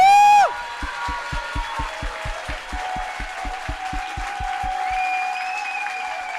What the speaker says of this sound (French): Allez, un tonnerre d'applaudissements